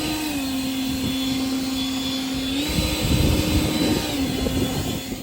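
A Litheli U20 cordless leaf blower roars steadily on turbo, a loud sustained whine with a droning hum that shifts slightly in pitch, with rushing air gusts growing stronger midway.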